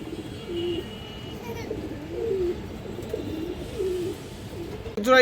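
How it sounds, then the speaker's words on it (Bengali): Low, throaty coos of Indian high-flyer Kaldom pigeons repeat at a steady pace from close by, with a brief clatter near the end. "ইন্ডিয়ান হাইফ্লাই কালদম কবুতর"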